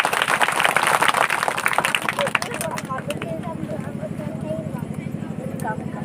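An audience at a Hindu consecration yajna gathering in Lawalong claps to welcome a speaker. Dense, loud applause fills the first couple of seconds, then thins out as a voice begins speaking over a steady background.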